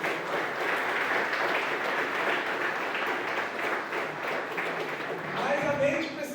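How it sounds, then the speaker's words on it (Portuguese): A church congregation applauding during a Sunday service, a continuous broad patter of clapping from a large crowd that stays fairly even and thins slightly near the end, with a voice mixed in. "pode aplaudir a você mesmo."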